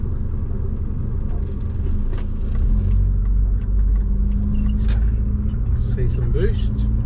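A compound-turbo Subaru car pulls in third gear, heard from inside as a loud, steady low engine rumble that swells slightly partway through, with a faint rising whine near the end.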